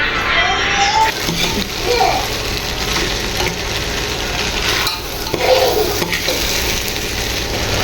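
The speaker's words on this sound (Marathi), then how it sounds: "तेलात छान तांदूळ मिक्स केला ना की तो सुट्टा होतो" Rice being turned in oil for mutton pulao, a steady frying hiss with soft stirring and scraping, while children's voices chatter faintly in the background.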